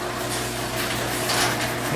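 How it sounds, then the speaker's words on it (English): A low mechanical rumble and steady hum of a garage door moving, with faint rattling and sliding noise, constant for the whole moment. "the garage door is opening."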